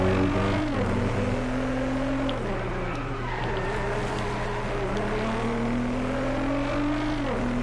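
A race car engine in the DRIVECLUB racing game revs loud and close, its pitch climbing through the gears over a steady droning note, with brief dips at the shifts and no voices.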